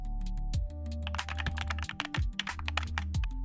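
A computer keyboard is typed on at close range while a mobile number is entered, producing a quick run of sharp, uneven key clicks and taps lasting a few seconds.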